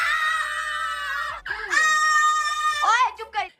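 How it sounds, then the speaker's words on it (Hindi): Three people scream loudly together in a house as a prank, long shrill sustained screams, with a brief break before a second burst and a final rising shriek. "हम दोनों ने मिलके तीनों मिलके चीख मारनी"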